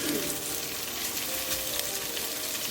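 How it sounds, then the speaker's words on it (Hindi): Paneer frying over high heat in a pan, a steady, dense sizzle that holds evenly close-up throughout with no talk. "तेज गैस पे हम अपने पनीर को हल्का सा गोल्डन होने तक भून लेंगे"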